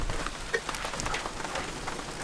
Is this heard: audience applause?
no